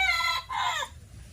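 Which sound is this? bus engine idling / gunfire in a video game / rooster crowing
rooster crowing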